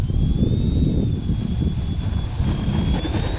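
E-flite EC-1500 radio-controlled airplane on its takeoff run, a steady loud electric motor and propeller drone with a thin rising whine above a broad rumble of wind, close and continuous with no talk.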